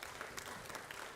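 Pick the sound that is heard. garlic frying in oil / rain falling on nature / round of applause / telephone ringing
round of applause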